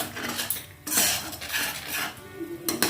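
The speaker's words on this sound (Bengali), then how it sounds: "এবার এটা আমি কষাতে দেব" A spatula scrapes and clinks against a pan in bursts while spice paste with Kashmiri chili powder and green chilli paste is sautéed for an eggless egg curry. The clatter is close, broken by brief pauses, with no speech.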